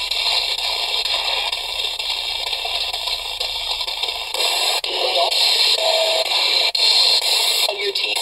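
A ghost box radio sweeps rapidly through stations, producing continuous hissing static with choppy fragments and sudden cuts, loud and close throughout.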